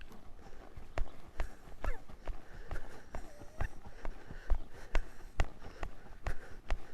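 Steady two-beat clip-clop of hooves at a trot, fairly close, with a faint creak of tack in between.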